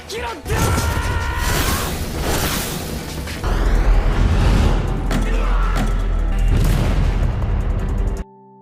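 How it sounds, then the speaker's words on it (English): Bomb explosion in an anime action scene, a loud sustained roar of blasts and rumbling debris that fills several seconds and then cuts off abruptly, with voices mixed in. "Yu immediately threw a bomb with extraordinary speed"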